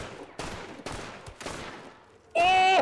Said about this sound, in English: I'm just blind firing, by the way.